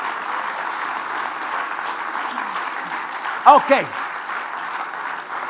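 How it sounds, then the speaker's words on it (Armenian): A church congregation applauds after a sermon on the cross, a steady wash of clapping under the preacher's voice, with a brief spoken interjection partway through. "Եկեք Հիսուսին ծափահարենք։"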